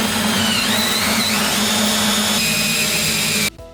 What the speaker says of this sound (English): Using a large diameter bit or a hole saw like the one we have here, cut a hole on the inside edge of this curve.